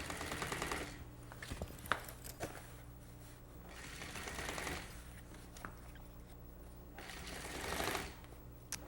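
A sewing machine stitching a zipper in place, running in several bursts of fast, even needle chatter with short pauses while the fabric is handled, fairly quiet and close, with no talk over it.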